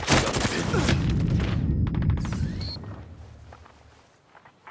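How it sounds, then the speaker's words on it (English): Enemy gunfire during a PvP bomb-defense match in Ghost Recon Breakpoint, a dense burst of rapid shots and booms with footsteps that thins out and fades, ending in one loud near impact. "I'm hearing enemy fire"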